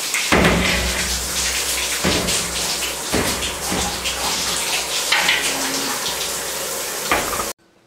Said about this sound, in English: Quick shower.